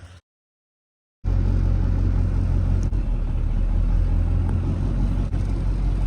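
A diesel pickup with an LB7 engine and an S369 turbo swap pulls off with a deep, steady, loud rumble after a brief near-silent gap, holding a constant low drone with small dips and no voices.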